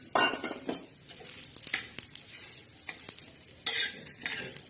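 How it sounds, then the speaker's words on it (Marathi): Grated coconut roasting in a little oil in a pan, with stirring scrapes and utensil clinks against the pan over a soft sizzle, several sharper bursts of scraping, no voices. "त्याच्यात थोडंसं तेल टाकून आपण हे खोबरं टाकणार आहोत खोबरं भाजत आहोत"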